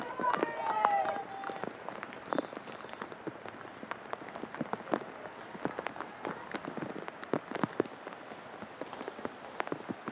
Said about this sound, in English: the rain is starting to come down just a bit